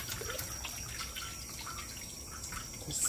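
Water runs quietly from a tap while raw chicken is rinsed, a soft steady trickle with faint splashes and drips.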